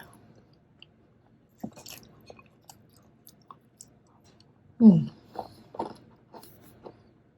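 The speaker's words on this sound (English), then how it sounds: "The granola is so crunchy." Crunchy chewing close to the mic, sparse crisp bites and crackles with one louder burst midway, otherwise quiet between chews.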